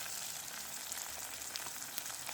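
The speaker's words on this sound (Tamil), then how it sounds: "எல்லாம் எண்ணெயில் பொரியும். இதோடு எடுத்து வச்சிருக்கிற கடுகை சேர்க்கிறேன்." Mustard seeds frying in hot oil alongside other ingredients, a steady dense sizzle with scattered small pops and crackles, close and continuous, with no talking.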